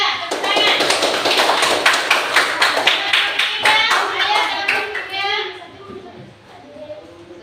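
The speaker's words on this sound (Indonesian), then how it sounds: "Sudah, tepuk tangan." A group of children clap together in a classroom at an Islamic school lesson, dense sharp hand claps for about five seconds, then fading to scattered claps with children's voices underneath.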